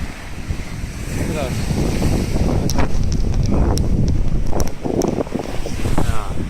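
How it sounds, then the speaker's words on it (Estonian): Strong wind sweeps across a sunny beach, rumbling steadily into the microphone with a constant buffeting roar and occasional faint clicks and distant voices underneath. "See on tuulisem, see on väga hea, muidu nii palav."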